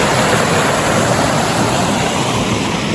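Cold Spring Creek rushing out of Blue Lake on a Washington hike, a steady, loud, close wash of flowing water with no break.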